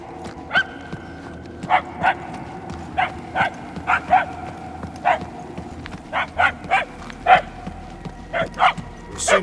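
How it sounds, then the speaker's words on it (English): Dog in the game Guardians of the Galaxy barking repeatedly in short, evenly spaced yips and bow-wows at a moderate distance over a low ambient game backdrop. "I can hardly hear the dog."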